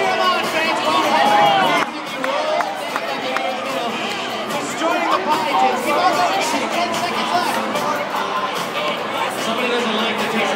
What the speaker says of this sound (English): Come on, let's cheer them on, fans.